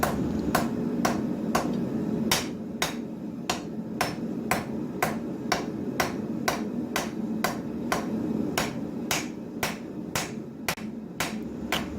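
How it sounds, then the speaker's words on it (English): A hammer beats a forged full-tang knife blade hung over the edge of an anvil, giving sharp, evenly spaced metallic strikes about twice a second that repeat steadily throughout with no talking. "I hang it over the edge of the anvil so I can try not to hit the face of the anvil with my hammer"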